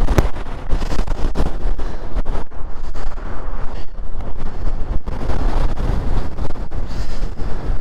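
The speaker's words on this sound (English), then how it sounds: "A lot of wind, eh?" Strong wind buffets a microphone outdoors on a dog sled run, a loud, continuous gusty roar with rumbling low-end pulses throughout and no talk.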